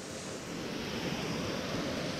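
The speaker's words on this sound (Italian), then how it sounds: "Sono venuto qui a disincagliare sotto questa magnifica cascata." A waterfall on a mountain stream pours in a steady, dense wash of rushing water that fills the whole stretch evenly at moderate loudness, with no one speaking.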